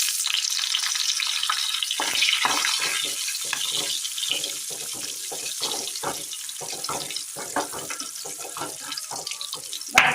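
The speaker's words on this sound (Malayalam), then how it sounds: "എണ്ണ ചൂടായി വരുമ്പോൾ കൊണ്ടാട്ടം മുളക് ഇട്ട് കൊടുക്കാം." Kondattam dried chillies frying in hot oil in a pan, a continuous crackling sizzle with irregular sputtering pops, close and fairly soft, without talk.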